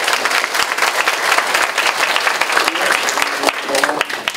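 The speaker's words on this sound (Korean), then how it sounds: "큰 박수 보냈는데 잘 들렸나 모르겠습니다" Steady applause from a small group of students clapping together, heard over a video call during a digital media lecture; the clapping is dense, continuous and fairly loud throughout, with a faint voice briefly audible near the end.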